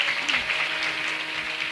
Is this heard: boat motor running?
no